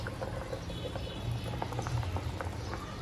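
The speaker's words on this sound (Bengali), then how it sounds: "আর আলু সিদ্ধ বসাইলাম" Potatoes boiling in a pot for potato chops; a steady, close bubbling with irregular soft pops and patter, moderately loud and without talking.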